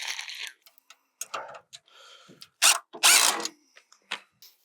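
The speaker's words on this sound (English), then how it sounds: "we can use a 10mm wrench and socket to tighten them into place" A 10mm wrench and socket tighten bolts while a one-way gravity gate is installed, giving close, irregular ratcheting clicks and metallic taps in short bursts with brief pauses between them.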